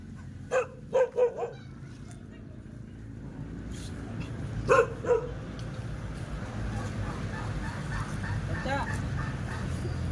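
A dog barks several times in short clusters, fairly distant, over steady background noise, followed by quieter stretches.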